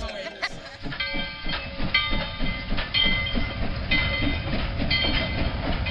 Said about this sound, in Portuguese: a potência da máquina a vapor que esparrama fumaça pelos ares, o apito agudo ao chegar ou partir da estação